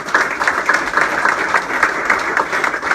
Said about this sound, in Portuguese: Um forte aplauso para Nang Pesei.